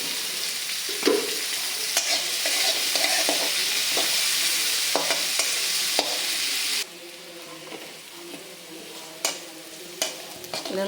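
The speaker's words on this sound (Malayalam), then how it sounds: "ഈ മെഴുക്ക് പുരട്ടിയാക്കി വെച്ചേക്കുന്ന കാച്ചിൽ കഷ്ണം നമുക്കിതിലേക്ക് ചേർത്ത് കൊടുക്കാം." Pieces of yam, prepared for a Kerala-style mezhukkupuratti, are stir-fried in a pan, with a steady oily sizzle and repeated scraping and clinks from a spatula. The sizzle drops off noticeably partway through, leaving quieter stirring taps.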